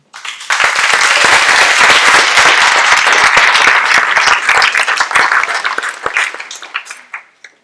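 An audience in a lecture hall applauds to welcome architect Cathy Simon, a dense, steady clapping that rises quickly and then fades away over several seconds.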